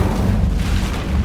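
A fire spell cast in the Hogwarts Legacy video game gives a loud, sustained booming whoosh of flame that fills the whole moment with deep rumbling energy, with no talk over it.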